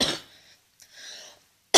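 A woman's cough bursts out at the start, followed by a softer breathy throat sound, then another sharp cough begins right at the end, close and loud, with no talk.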